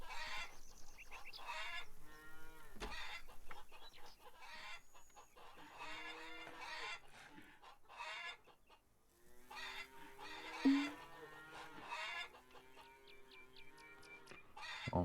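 Hens in the hen house of the Farmer's Dynasty farming game cluck and chatter in repeated bursts, close and clear, with brief pauses between calls and no talking.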